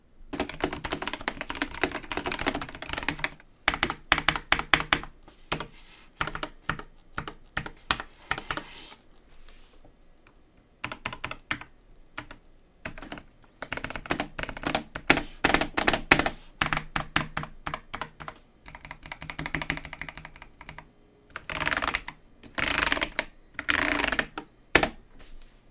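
Typing on a Cooler Master CK720 mechanical keyboard recorded with a shotgun mic: bursts of rapid, crisp key clacks in irregular runs, broken by short pauses and a few quieter stretches.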